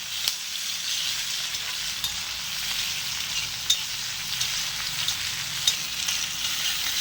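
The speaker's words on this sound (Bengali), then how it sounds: "একটু ভেজে নিয়ে এর মধ্যে দিয়ে দেবো পেঁয়াজ কুচি 1 কাপের মতন।" Chopped onions frying in a pan, a steady bright sizzle throughout with a few faint clicks of a utensil, close and unaccompanied by talk.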